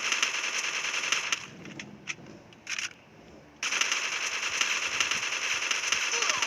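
Rapid bursts of gunfire in a shooting video game, loud and crackling. A quieter stretch in the middle carries a few isolated shots before the dense firing resumes.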